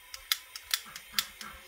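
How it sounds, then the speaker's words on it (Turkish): A gas lighter is struck again and again, giving a row of sharp, close flint clicks at a fairly even pace with no speech over them. "Yanıyormuş bak çakmak."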